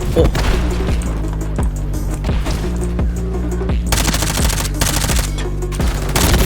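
Gunfire in Call of Duty Warzone from a modded weapon: loud, rapid bursts of automatic fire with sharp cracks and short pauses between volleys, plus a heavier impact near the middle.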